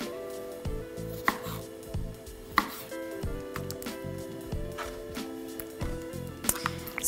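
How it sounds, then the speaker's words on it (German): Tomatoes being quartered with a knife on a cutting board for a pasta salad, a run of crisp, close chopping taps in an irregular rhythm with faint clinks of kitchenware. "Jetzt müssen noch die Tomaten geviertelt werden"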